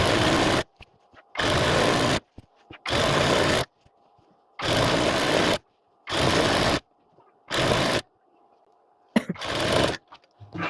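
A sewing machine stitches petticoat panels in loud, steady bursts of a second or so each, seven or eight runs separated by short pauses, close and alone.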